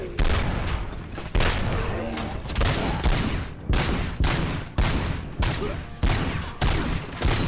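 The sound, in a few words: gunfire in video game RoboCop: Rogue City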